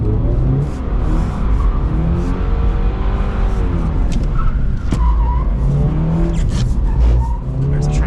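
A 2022 Subaru BRZ drifts under throttle, its tires sliding and squealing continuously over a steady engine roar, loud and close throughout.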